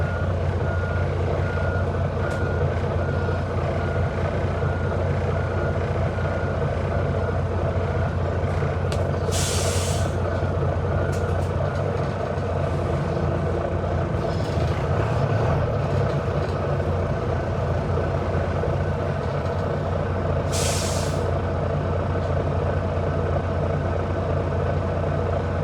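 A bus leaves Bristol bus station with a steady engine rumble throughout. Short hissing releases of the air brakes come twice, and faint beeping runs underneath, with no talk.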